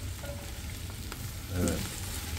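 Onions and peppers fry in butter in a home kitchen pan, a steady close sizzle with a brief louder crackling burst near the end as more go in.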